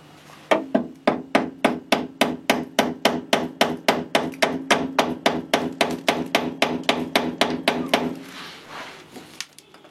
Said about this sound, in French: Je vais remettre l'écrou à sa place et je vais tapoter au marteau.